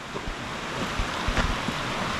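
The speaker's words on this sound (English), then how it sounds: "So here's the river the other side, or the waterfall, and it runs down" A river or waterfall runs down toward road culverts in France, giving a steady broad rushing wash with light wind buffeting, close and continuous, with no talking.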